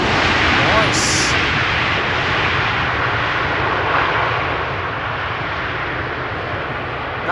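Airliner engines roar loudly and continuously at Amsterdam Schiphol Airport, a broad powerful rumble that eases slightly toward the end.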